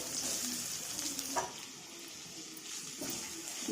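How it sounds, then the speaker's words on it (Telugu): Chopped onions frying in hot oil with mustard seeds and urad dal, a steady close sizzle with brief stirring scrapes and a few soft pops. "బాగా వేయించుకోవాలి పచ్చివాసన అంతా పోయి కాస్తంత దోరగా వచ్చేలాగా వీటిని వేయించుకోవాలి"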